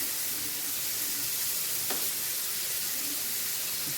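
Shrimp frying in a hot pan, giving a loud, steady sizzle and hiss throughout, with one sharp tap near the middle as the pieces are flipped, and no talking.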